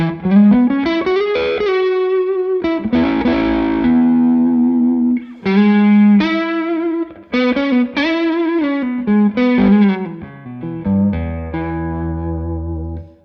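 Electric guitar through a Victory overdrive pedal on its low gain setting plays a melodic run of sustained notes and quick phrases, gritty and upfront, with no voices.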